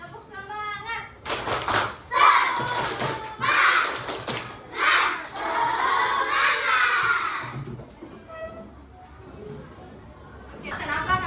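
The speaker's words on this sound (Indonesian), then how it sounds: "Lagi, tepuk semangat." A repeat round of tepuk semangat from a grade 4 and 5 classroom: many children shout a rhythmic chant with patterned claps and thumps, energetic and close, before it fades to quieter chatter near the end.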